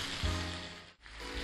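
Pork ribs sizzle in a frying pan with a steady, dense crackle and hiss that briefly dips before resuming, close and continuous.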